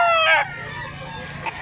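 A rooster's crow rings out near the start at a chicken market in Mantalungon, Barili, Cebu, then fades into softer background crowing and market din for the rest of the moment.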